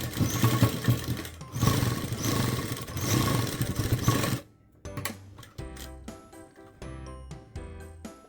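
A sewing machine stitches a hem on a fabric drawstring pouch, running in a loud continuous burst, then stopping before several short spurts of stitching broken by pauses.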